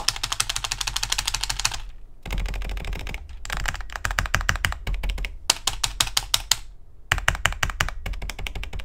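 Rapid, steady clatter of keys on a computer keyboard on a modded leverless controller, close up, in continuous bursts separated by brief pauses.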